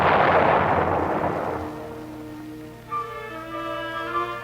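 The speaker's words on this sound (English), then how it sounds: "the mine is destroyed by gunfire from another following sweeper" Naval gunfire from a following minesweeper destroying a cut contact sea mine: a loud, booming blast that rolls away into a long rumbling decay, with a lingering low tonal hum and a faint later thump.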